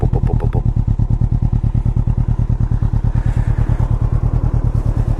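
A Can-Am Ryker 600 three-wheeler with a twin-cylinder engine idles close by, its exhaust thumping in a steady, even loping pulse that stays loud and alone throughout.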